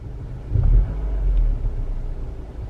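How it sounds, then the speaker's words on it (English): A faulty car engine rumbles roughly and unevenly up close, swelling into a heavier low growl for a moment before settling back to a ragged idle. "I like spend thousands of dollars to try and fix my car and it still makes crappy noises."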